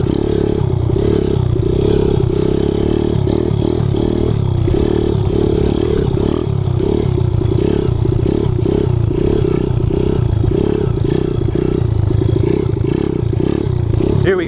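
A Kawasaki KLX 110 pit bike ridden over a bumpy track with doubles and braking bumps drones loudly and steadily, its small engine rising and falling as the throttle changes, with rattling from the chassis.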